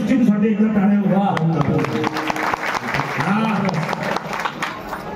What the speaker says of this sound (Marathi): उत्कृष्ट जाऊन सिस्टीमसाठी एकदा टाळ्या